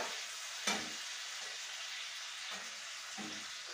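Water poured into fried tomato paste and melted fat in a pan, giving a constant bright sizzle with a sharp hissing burst near the start and a few softer stirring scrapes after it.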